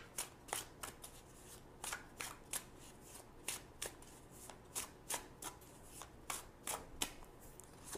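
Tarot cards are shuffled by hand in a quiet room, a series of short, crisp riffling bursts repeating at a fairly even rhythm for about eight seconds, soft and close.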